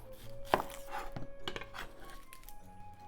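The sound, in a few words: knife cutting an onion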